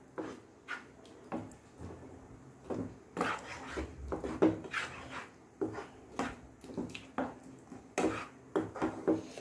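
Spoon scraping and knocking in a pan as chhena, milk and sugar are stirred together over high heat for kalakand, a series of irregular close clatters and scrapes.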